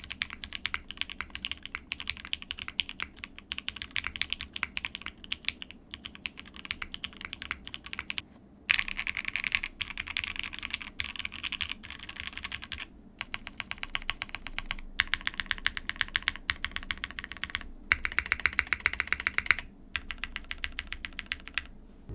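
Steady typing on a Shelby80 TKL mechanical keyboard built with an aluminum plate and foam, a continuous close stream of muted keystroke clacks with occasional brief pauses.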